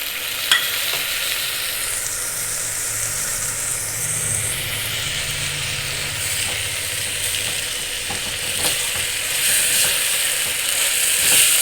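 Chopped tomato sautéed in oil for kadala curry gives a loud, close, continuous sizzle with intermittent scraping stir strokes and a faint hiss of steam, no speech.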